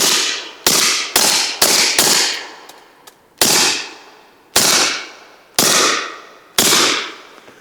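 Subsonic 10mm rounds fired from a Glock 20 fitted with a SilencerCo Hybrid 46M suppressor: about ten loud, close shots, each a sharp crack with a short decaying tail. The first shots come in a quick cluster, the later ones at steadier intervals.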